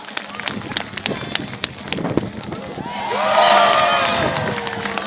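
Audience at an aquarium show cheering, a crowd swell rising midway over splashing water and a host talking throughout.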